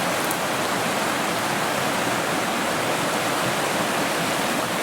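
River water rushing in a loud, steady roar of dense broadband noise that holds without pause from start to finish.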